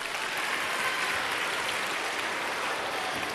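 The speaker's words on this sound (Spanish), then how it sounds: "un aplauso para Juanma" Audience at a children's concert claps for a boy, a steady, full wash of applause from a crowd that holds at an even level throughout.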